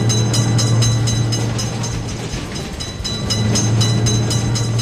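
Loud, close rumble and rhythmic clickety-clack as a train runs through a level crossing in a railroad crossing game, holding steady throughout.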